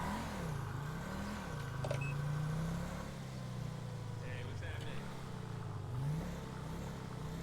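A car engine in Grand Theft Auto V hums and revs in rising and falling waves as the car drives off a runway, running continuously at moderate loudness.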